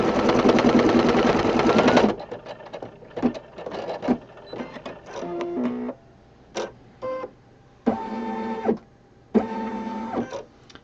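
An embroidery machine runs a placement stitch on a Valentine hug rug, starting with a loud continuous whir, then breaking into short stitching bursts and knotting pulses with brief gaps.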